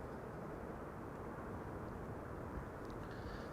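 A TUI Boeing 787 Dreamliner airliner arriving from Curaçao gives off a steady, broad engine roar at moderate distance, even and unbroken throughout.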